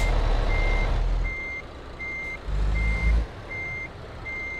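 Truck reversing alarm in Euro Truck Simulator 2, a steady series of six evenly spaced high beeps repeating over a rumbling diesel engine that swells and drops, with no one talking.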